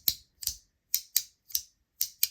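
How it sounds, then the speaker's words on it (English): Magnetic fidget toy clicked by hand in quick pairs, seven sharp, bright, close clicks with clean silence between them, grouped as double clicks. "It's very fun to do the double click."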